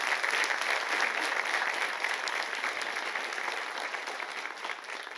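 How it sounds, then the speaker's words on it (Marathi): Audience at a school annual gathering applauding, a dense, steady roll of clapping from a large crowd that fades slightly toward the end, with no voices over it. "सगळ्यांसाठी परत एकदा जोरदार टाळ्या वाजवा."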